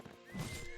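A horse in the video game Mount & Blade Warband lets out a short, faint whinny, a single brief neigh with a slight thump beneath it.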